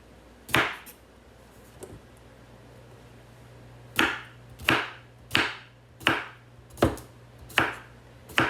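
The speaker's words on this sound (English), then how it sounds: "So I'm going to cut the rest of these pickles up." Knife chopping pickles on a board: one chop, a faint tap, then after a pause a steady run of six or seven crisp, evenly spaced chops, close and loud.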